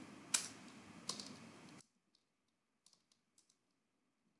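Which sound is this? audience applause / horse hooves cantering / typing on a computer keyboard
typing on a computer keyboard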